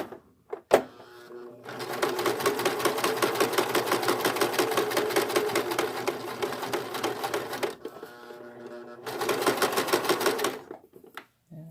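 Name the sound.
sewing machine stitching elastic on a lycra swimsuit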